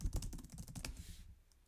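Computer keyboard keys clatter in a quick burst of close, crisp clicks while entries are typed into a resume, the taps thinning out and stopping near the end.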